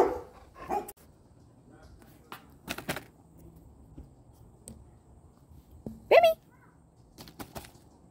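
A neighbor's dog barks a handful of times outdoors during a fall photo session with a border collie, short sharp bursts scattered across several seconds with quiet gaps between them.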